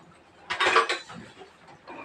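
A metal lid is set and closed on a pressure cooker of rice for pulao, a short clattering clank of metal with a brief rattle, then quiet with faint kitchen noise.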